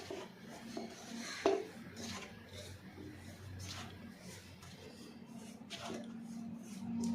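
Flour dough for chicken momos is mixed with salt and white oil in a bowl, giving soft rubbing and squishing with light clinks of utensils against the dish, fairly faint and close, with a voice talking over it.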